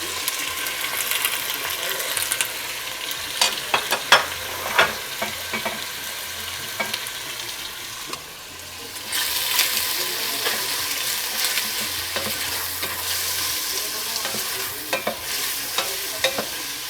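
Pieces of cuttlefish sizzle and crackle in a hot pan over high heat, with repeated scraping and clicking stirring strokes throughout, close and fairly loud, no talking.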